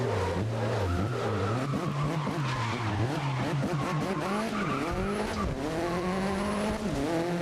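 A Koenigsegg race car in GRID (2019) screams along with a sustained, loud engine whine that rises and falls while the tires squeal and skid continuously throughout, no voices present.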